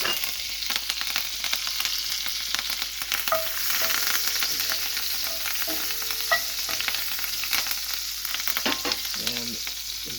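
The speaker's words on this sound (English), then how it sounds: "now that the skillet has warmed up, I'm going to add in some of the herbs" Rosemary and thyme sizzle steadily in a hot cast iron skillet, a continuous crackling hiss with scattered pops and brief stirring scrapes near the end, no talking.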